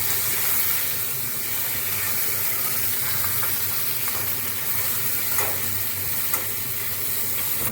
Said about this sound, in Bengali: মাথাটাকে ভালো করে ভেজে নিচ্ছি।